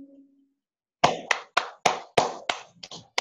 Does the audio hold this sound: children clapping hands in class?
yes